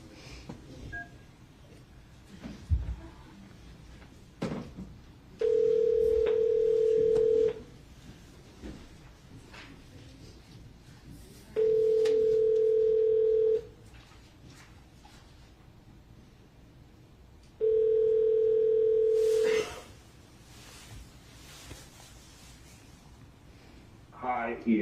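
Three long telephone ringback tones sound clearly while a call is placed from a courtroom, each lasting about two seconds with pauses between, over faint room noise and occasional background movement.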